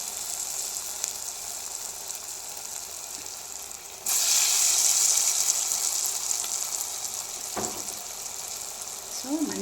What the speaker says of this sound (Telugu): మనం వడలు వేస్తున్న టైంలోనే వేసుకోవాలండి